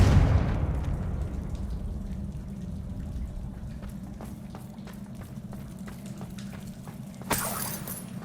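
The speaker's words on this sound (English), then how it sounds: "Confringo!" A Confringo fire spell explodes in the Hogwarts Legacy video game, opening with a loud, deep boom that rumbles and fades, then a sharper second burst near the end over a low, steady background.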